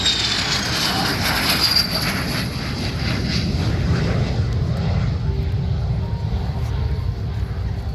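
An F-35B Lightning II jet makes a pass at the 2025 EAA AirVenture Oshkosh airshow, a loud, continuous roaring engine rush that holds steady across the whole stretch.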